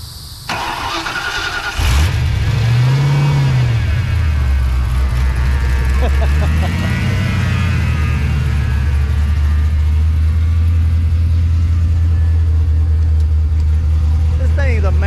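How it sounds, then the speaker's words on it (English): A Ford Mustang Foxbody that has sat for a long time cranks and fires up, then settles into a loud, rumbling idle with slight revs close by, while people talk over it. "Oh, you think it's gonna start? I think it'll start."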